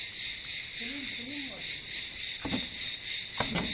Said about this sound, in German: Die Grillen sind ziemlich laut